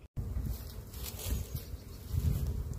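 Honey bees buzz busily around their hive on a fine early spring day, a soft continuous drone of many insects close by, with no voices.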